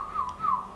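A person whistles softly close to the ear, two short falling tones in quick succession.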